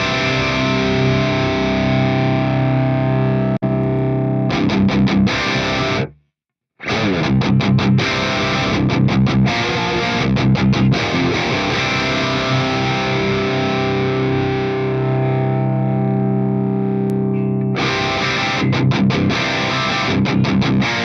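Distorted electric guitar runs through an Axe-Fx III standard cab block, playing chugging riffs and sustained chords with one brief silent break partway through, loud and alone.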